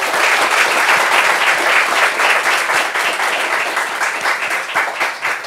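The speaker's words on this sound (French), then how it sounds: "Est-ce qu'on peut applaudir nos invités" Sustained audience applause, dense and steady clapping from a sizable crowd filling the whole stretch without pause.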